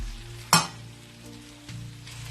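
Spices such as chilli powder and turmeric hitting hot oil for a goat head curry, setting off a sudden loud sizzle burst that eases into a steady fry, with a second flare near the end.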